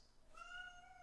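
A cat gives a single short, faint whining meow, rising then drawn out, heard alone in a quiet room.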